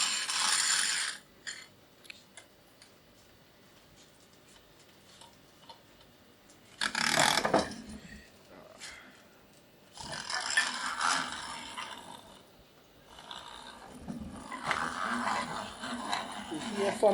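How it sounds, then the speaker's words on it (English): A grinder crushing cocoa nibs into a soft chocolate paste at a chocolate-making demo in a Grenada museum, heard as several bursts of rattling, ratcheting mechanical grinding separated by quieter pauses. "So place nibs into the grinder."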